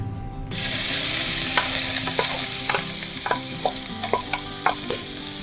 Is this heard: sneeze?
no